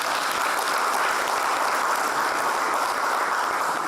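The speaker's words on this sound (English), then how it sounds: "Let us give a round of applause to Mr." Steady, dense applause from a large crowd at a men's leadership conference, honoring a named guest, sustained evenly at full strength throughout with no speech over it.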